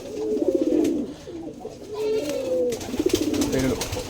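Giribaz pigeons coo in close, repeated rolling phrases over a faint hum of the loft.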